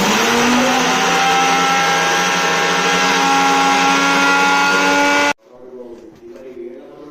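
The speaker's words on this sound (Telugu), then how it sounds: "ఇట్లా మిక్సీకి మిక్స్ చేసుకోవాలి" A mixer grinder whirs loudly and steadily for about five seconds, then cuts off abruptly, leaving quieter room sound and faint talk.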